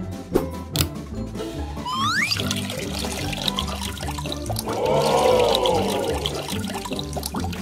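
A LEGO pump pushes water from a model mountain lake into a rose greenhouse, producing a running, splashing trickle that swells midway and sits under background music.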